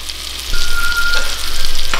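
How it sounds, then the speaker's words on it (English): Meat browns in a pan with a loud, close, continuous sizzle that swells after a brief quieter start, steady and free of talk. "Because I'm cooking it slow, and let it get brown on this side and then put my lid on."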